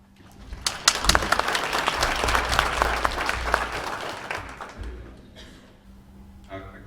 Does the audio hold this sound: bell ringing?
no